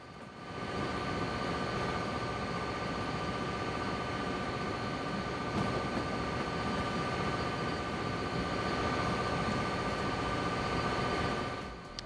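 A train locomotive moving at speed in DayZ gives a steady, loud mechanical rumble and roar with a faint whine that holds unbroken throughout, with no talking.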